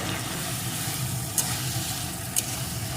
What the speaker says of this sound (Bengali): মটরশুঁটিটা একটু নাড়িয়ে নেব